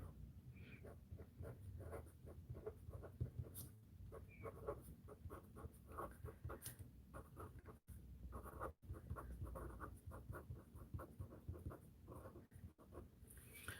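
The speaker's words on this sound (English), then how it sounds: "I'll write that down" A pen scratches across paper in quick, continuous strokes with brief pauses between words, quiet and close.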